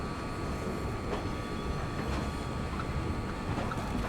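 The Banaras SF Express rolls in toward platform 5 at busy Jabalpur station, a soft continuous rumble with faint clanks and a thin tonal hum, quiet and somewhat distant.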